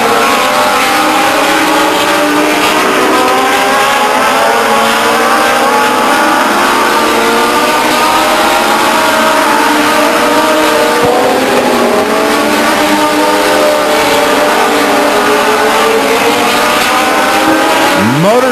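Legends race cars with motorcycle engines racing around a quarter-mile speedway, a loud continuous roar of several engines rising and falling as they pass, with an announcer's voice over a loudspeaker.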